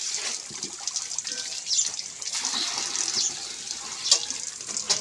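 Water poured while washing cattle and a vehicle on a farm, a continuous hissing splash running throughout, moderately close, with some faint background voices.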